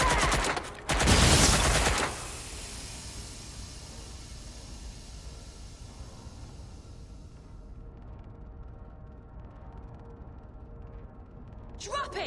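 A short loud burst of gunshots in the video game Watch Dogs: Legion, rapid shots lasting about a second, then a long fading tail of ambient noise with voices.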